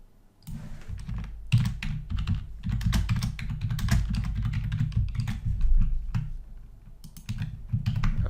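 Computer keyboard typing text, a steady run of close, crisp key clicks in irregular bursts with brief pauses, no voices.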